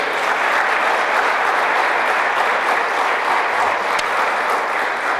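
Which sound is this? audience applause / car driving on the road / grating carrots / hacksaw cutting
audience applause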